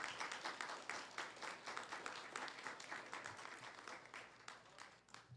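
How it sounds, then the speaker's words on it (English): Audience applause at a Philippine dialogue event on the blue economy, a steady crackle of many hands clapping for about five seconds, fairly soft and distant, with no talking over it. "Round of applause, please."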